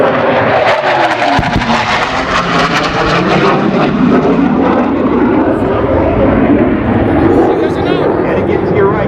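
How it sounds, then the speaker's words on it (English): An F-18 Hornet jet making an ordnance pass at a military airshow roars loudly overhead with a rising, sweeping jet wash that holds through the pass. An announcer talks over it on a public address system. "you'll see the F-18 Hornet coming again for another ordnance pass"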